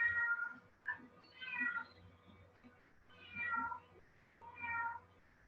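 A cat meows four times in close, clear, drawn-out cries with short pauses between them, in an otherwise quiet room.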